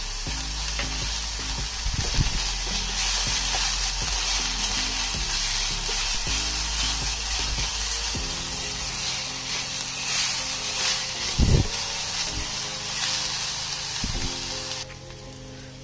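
Green chili and onions frying in a pan for a coconut paneer dish, a steady close sizzle with occasional stirring clinks and scrapes, no talking.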